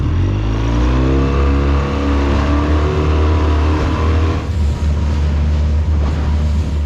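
A liveaboard sailboat's engine runs steadily and loudly on bumpy water, a continuous droning rumble with a shifting tone and no talking.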